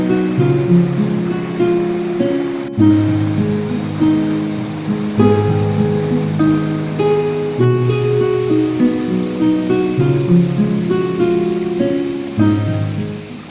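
Water flowing out from under a stone at a Shiva shrine in the monsoon season, a steady, fairly loud patter and rush that continues without a break and with no voices.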